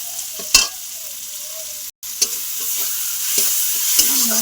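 Onion with chili and cumin powder frying in a pan, a steady sizzle broken by a few sharp stirring scrapes and clinks of a utensil against the pan, close and fairly loud.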